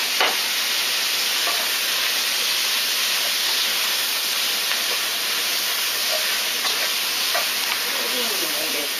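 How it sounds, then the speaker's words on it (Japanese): Onions stir-fry in oil in an iron pan, giving a steady, loud, close sizzle and hiss throughout, with faint scraping of stirring now and then. "全体的に油が回るまでしっかりよく混ぜて炒めてください"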